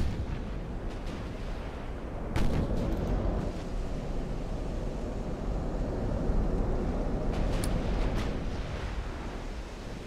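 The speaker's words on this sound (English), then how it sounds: "Got a lot more of his ships firing now, so there's gonna be a lot of firepower coming my way" Naval guns from warships boom in the game Ultimate Admiral: Dreadnoughts, a heavy rumbling barrage with a sharper blast near the start and continuous deep roar, like distant artillery over rolling sea.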